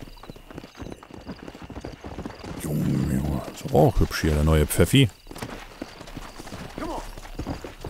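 Horse hooves clip-clopping at a steady walking rhythm in the Western video game Red Dead Redemption, heard close and clear while someone speaks German over them.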